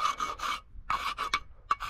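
A boat propeller has its burrs smoothed off with a file: several short, close rasping strokes in quick succession with brief pauses between.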